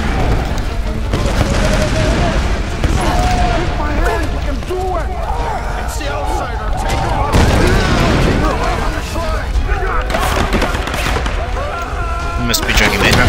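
Gunfire and booming artillery-like blasts fill a Tomb Raider game scene of burning buildings, heavy and continuous throughout, with game speech and music layered over the shooting.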